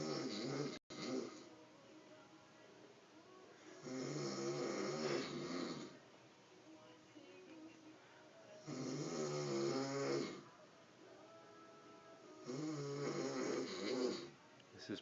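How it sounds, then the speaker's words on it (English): A man snores loudly nearby, three long, rasping, rumbling snores separated by quiet breathing pauses. "This is probably the worst I've ever heard him snore."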